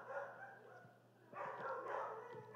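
A dog barks a few times somewhat in the distance behind a steady indoor background, with louder bursts toward the end.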